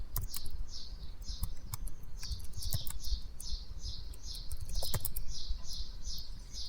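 Quick, close keyboard typing clatters in bursts of key taps, with a faint high chirping repeating steadily in the background.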